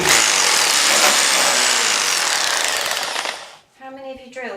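A power drill grinds loudly and steadily into ceramic tile during home renovation work in Türkiye, the harsh whine running continuously before cutting out, followed by a short voice.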